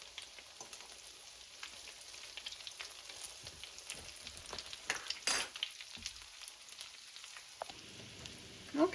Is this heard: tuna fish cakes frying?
yes